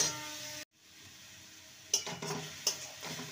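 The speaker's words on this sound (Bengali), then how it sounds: "ভালো করে নেড়ে নেব" Grated carrot and potato filling being stirred in a pan with a spatula, soft scraping and faint sizzle, broken by a short silence and then a couple of sharper clinks against the pan.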